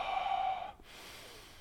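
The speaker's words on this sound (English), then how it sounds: "I breathe into my nose and I have a low belly breathing, and I tend to breathe out my mouth" One close, audible nasal inhalation drawn in through the nose for low belly breathing, a hissing snort-like intake lasting under a second that fades to quiet, with no talk over it.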